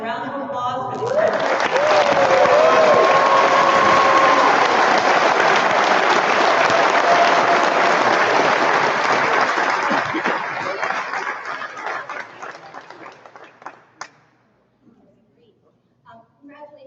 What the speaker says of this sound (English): Please join me in a round of applause for these